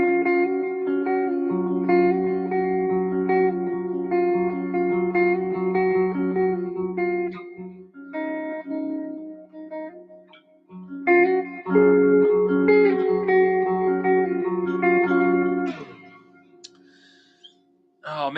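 Electric guitar played through a Princeton tube amp, sustained chords and single notes ringing with reverb for most of the stretch, dropping out briefly midway and fading near the end, close and fairly loud.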